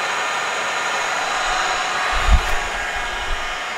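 A used Summit LE-1500 lathe runs at 1500 RPM with a steady, even whirring drone. One brief low thump breaks the hum, and no one speaks.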